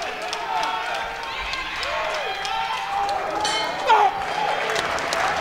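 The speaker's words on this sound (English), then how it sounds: "And the crowd's into it." Arena crowd at a women's cadet boxing bout at West Point, a sustained roar of cheering and clapping with shouts rising over it, voices audible throughout.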